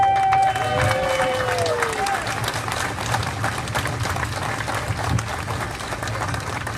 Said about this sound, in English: So applause to you all